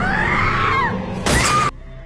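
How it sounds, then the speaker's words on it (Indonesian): Car window glass smashed in a Korean thriller film scene, a sudden loud crash and shatter lasting about half a second, preceded by a tense wailing tone and followed by quieter sound. "Dia memecahkan kaca mobil, menerobos masuk ke dalam mobil"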